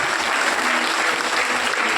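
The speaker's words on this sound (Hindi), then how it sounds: "आप भी ताली बजा करके स्वागत कर दीजिए।" An audience at a devotional gathering claps steadily and fairly loudly for a couple of seconds, a dense, even patter with no voices over it.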